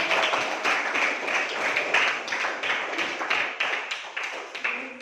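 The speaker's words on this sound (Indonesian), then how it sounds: "Tepuk tangan untuk Anissa" Students in a classroom give a student named Anissa a round of applause, brisk rhythmic clapping from several hands close by, steady for about five seconds with no speech.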